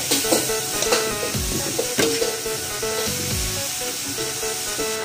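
Vegetables hit a hot pan while Pancit Miki cooks, giving a steady loud sizzle with crackling bursts and the scrape of stirring throughout.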